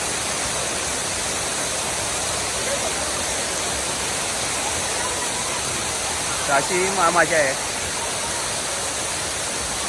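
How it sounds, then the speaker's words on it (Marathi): A waterfall near Dapoli, Ratnagiri, roars in a steady, dense rush throughout, with a person speaking briefly over the constant noise of the falling water. "धबधबा पण खूप सुंदर आहे"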